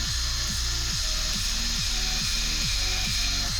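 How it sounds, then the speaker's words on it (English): Power drill on its fast setting twisting wire into fused Clapton coils, a steady loud whirring motor with repeating rhythmic cycles about every half second, continuous and close, no talking. "This is on my fast speed on my drill and it's still going slow,"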